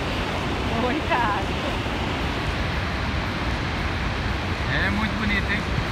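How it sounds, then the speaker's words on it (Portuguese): The massive Iguaçu Falls roar in a dense, unbroken wash of rushing water, loud and constant throughout, with faint voices of nearby visitors briefly rising above it. "tem as Cataratas do Iguaçu como uma das sete maravilhas naturais do mundo"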